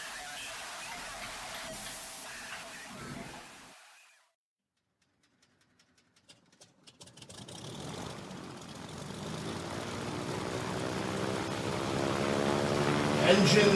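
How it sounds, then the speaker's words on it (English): A B-17 bomber engine starts up, likely on a plastic scale model: after a silent gap, sputtering pops build into a rising propeller drone that grows louder to the end, following noisy ambience. "All right, let's get the engine started."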